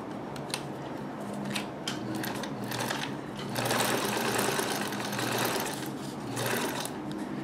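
A Necchi Supernova Ulta free-arm sewing machine runs steadily, its needle clattering in a fast rhythmic chatter that speeds up midway, close and continuous.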